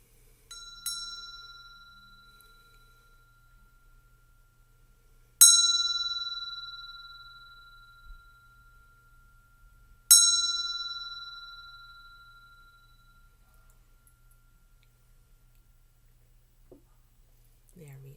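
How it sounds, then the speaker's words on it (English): A small bell rung three times to clear energy, each strike a bright, clear ding that rings on and slowly fades in a quiet room, with long pauses between strikes. "I don't want to hurt your ears while I clear the energy with the bell."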